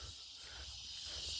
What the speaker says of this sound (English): Here goes some cicadas.